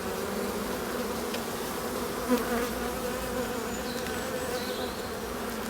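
Honey bees buzz steadily around a hive, a dense, continuous hum with individual insects droning closer now and then.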